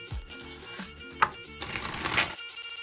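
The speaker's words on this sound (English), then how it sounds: "So let's crack it open and see about the cards." A tuck box of 1000 Cranes playing cards by RiffleShuffle is cracked open: a few seconds of papery rustling and card-handling friction with one sharp tap partway through, close and moderately quiet.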